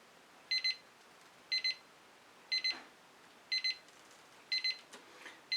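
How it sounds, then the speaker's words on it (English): A kitchen timer alarm goes off during a fluid art painting session, sounding five evenly spaced double-beep bursts, loud and clear against a quiet room. "my timer telling me I've got 3 minutes left."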